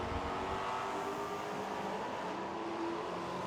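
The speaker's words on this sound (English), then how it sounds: "1951 Henry J, powered by 396 cubic inches of a big block Chevrolet." A 1951 Henry J fitted with a 396 cubic inch big block Chevrolet engine at a muscle car drag racing event, its steady loud engine roar continuous throughout amid broadband track noise.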